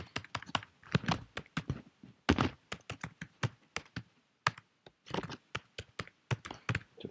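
Someone typing on a computer keyboard: a steady run of crisp, close key clicks with uneven rhythm and brief pauses, no voices over it.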